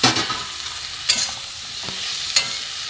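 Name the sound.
frying pointed gourd and potatoes with spices in a pan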